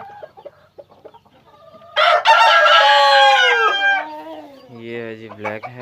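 Fancy chickens such as black heavy, white silkie and golden laced Polish birds at a poultry sale: a loud rooster crow rings out alone for about two seconds, followed by softer clucking and another drawn-out call, with faint chatter earlier.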